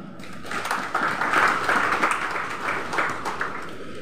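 Participants at a church synod conference in Indonesia applaud together, a dense, steady crowd clapping at moderate loudness that rises after a brief start and holds for several seconds.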